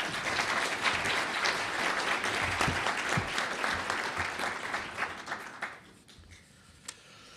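Audience at the National Press Club applauding a keynote speaker, a sustained, fairly distant wash of many hands clapping that thins out and fades near the end, with a few last claps.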